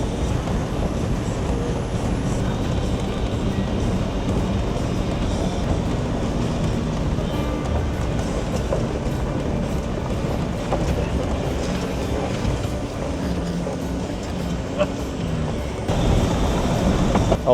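A diesel Audi Q7 TDI climbing an off-road trail, its engine and turbo a continuous rumbling drone with rattling and wind buffeting, steady and close throughout, and no one speaking.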